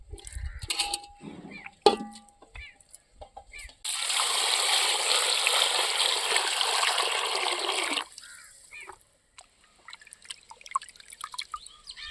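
Cut pieces of korameenu fish are washed in water, a loud continuous splashing and sloshing for several seconds, with scattered handling clatter and faint movement before and after.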